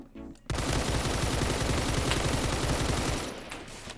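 Rapid gunfire in the shooter game Phantom Forces bursts in abruptly after a brief quiet moment, a dense run of shots lasting about three seconds before trailing off, loud and close.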